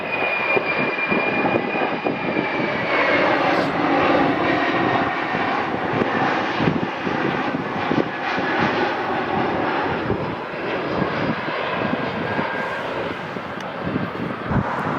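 Airbus airliner jet engines at LAX, a loud continuous roar with a high whine on top, holding steady across the whole stretch with wind buffeting the microphone.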